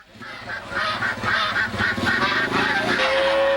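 Poultry for sale at a riverside market honk and squawk in a dense, loud, continuous clamor, with goose-like calls overlapping throughout.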